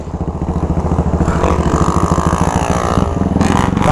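A motorcycle fitted with a truck exhaust revs hard and loud up close, a deep pulsing, throaty rumble with rapid rhythmic firing, rising and falling through the run.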